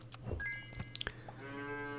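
A cartoon cow in an auto-battler game gives a drawn-out, tonal moo after a quick cluster of clicky game effects and chimes over a low steady hum.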